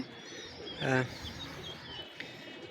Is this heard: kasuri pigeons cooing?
yes